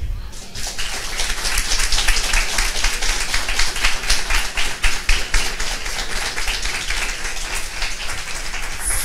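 A church congregation claps together steadily for about nine seconds during a worship service, a dense, even patter of many hands that starts abruptly and holds at a constant level.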